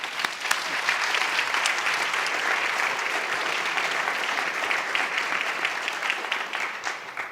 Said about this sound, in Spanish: vamos a darle a nuestros grandes amigos un gran aplauso